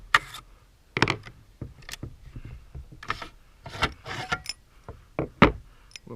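An FN SCAR 16/17 rifle being taken apart, lower receiver, buttstock and bolt carrier group coming off, giving a series of sharp metallic clicks, clacks and sliding knocks at irregular intervals, close and fairly loud with quiet gaps between them.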